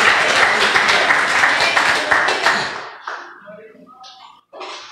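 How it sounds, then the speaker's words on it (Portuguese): A church congregation bursts into loud, dense applause for about three seconds, then the clapping breaks off and a voice speaks over a few lingering claps. "Vamos aplaudir a Deus."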